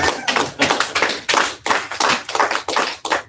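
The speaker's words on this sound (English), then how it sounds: "Clap it up for Monty." A small group claps at a sales training session, sharp close claps in a fast, slightly uneven rhythm that comes in repeated bursts with no talk over them.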